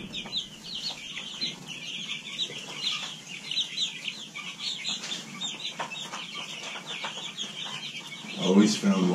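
Chickens, including small meat birds, cluck and chirp continuously in a busy flock, steady mid-level chatter with a louder burst near the end and no talk.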